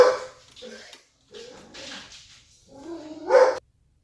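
Excitable pet dogs bark and whine indoors in short, uneven bursts, close and fairly loud, with gaps of quiet between them.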